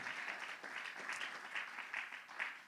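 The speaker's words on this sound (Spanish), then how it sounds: "Un aplauso al Señor, gloria a Dios" Church congregation applauding during a Spanish-language sermon, a steady dense wash of clapping heard at moderate distance, with faint voices mixed in.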